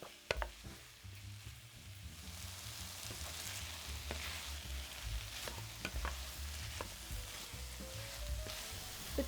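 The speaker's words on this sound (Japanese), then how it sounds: "豚肉をほぐしながらこのお肉の色が変わるまで炒めていきましょう。" Pork sizzles as it is stir-fried in a pot, a quiet, steady crackle broken by scattered clicks and scrapes of stirring and of a utensil against the pot.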